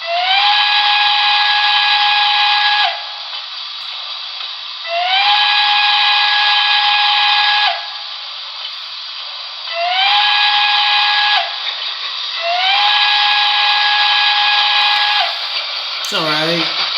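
Sound-equipped whistle on a Broadway Limited PRR L1s diecast model steam locomotive playing the grade crossing pattern: four loud whistle blasts, long, long, short, long, with a breathy steam hiss between them and a brief knock at the end.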